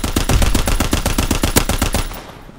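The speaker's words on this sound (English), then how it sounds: "Anti-aircraft bursts commenced." Anti-aircraft guns fire a rapid, continuous burst in the Call of Duty: WWII Ardennes Forest map, sharp evenly spaced shots hammering loudly for about two seconds before fading out.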